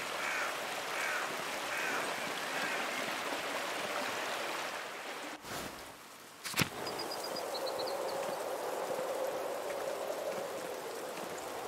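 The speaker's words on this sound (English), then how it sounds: "Check out the waterfall." Steady rushing water from a waterfall in the video game Pentiment, a constant hiss and splash that continues throughout with a brief dip midway and faint chirps.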